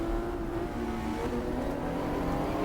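Ferrari 275 or 250 sportscars racing in the game GTR2 at the 1966 Targa Florio, a continuous droning engine roar with shifting revs, steady and fairly loud.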